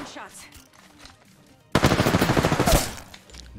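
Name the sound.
gunfire in the video game Apex Legends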